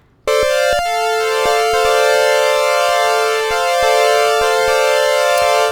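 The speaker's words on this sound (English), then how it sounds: "Let's listen to what the pulse width modulation sounds like when we have all the waveforms on." A Moog Memorymoog analog synthesizer with all waveforms on and pulse width modulation holds a steady, bright, buzzy sustained chord, with a shimmering, phasing timbre and faint rhythmic beating throughout.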